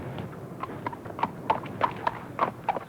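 Horses' hooves clip-clop in a steady, overlapping rhythm of sharp strikes during a ceremonial parade, heard close by from among the mounted ranks, with no talk.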